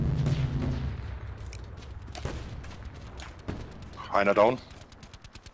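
Gunfire in Call of Duty: Black Ops 4 Blackout: a few sharp shots scattered under steady players' talk, with one louder burst near the end.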